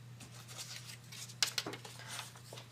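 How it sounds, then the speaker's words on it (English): Scissors slicing through lace fabric while cutting out a Claudia panties sewing pattern: a few crisp snips bunch together near the middle, over a low steady hum, with no voices. "I take this new piece and I cut it out of my lace"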